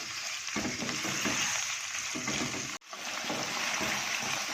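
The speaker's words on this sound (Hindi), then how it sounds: "चिकन को ज़्यादा नहीं भूनेंगे, हल्का सा बस इसका कलर चेंज करके" Chicken frying lightly in a kadai, giving a steady, close, dense sizzle throughout with a brief drop at one moment, then the hiss resumes at the same level.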